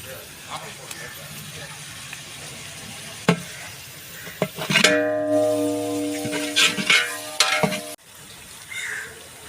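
About fifteen green chillies sautéed in a pan for a large batch of mutton dum biryani: a steady sizzle with stirring scrapes and clanks of utensil against the pot, louder in the middle, under a voice.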